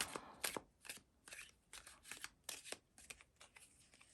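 A deck of tarot cards is shuffled by hand, quiet close riffling bursts coming in uneven spurts with short pauses between, no voices over them.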